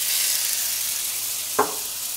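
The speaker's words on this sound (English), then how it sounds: "Now we're gonna get our sizzle on." Tomatoes sizzle in a hot frying pan with a steady, bright hiss, broken once by a short knock or scrape near the end.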